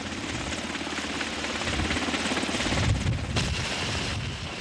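A military helicopter hovers during rappel training, its loud rotor thumping and engine roar steady and close for the whole stretch, with no voices.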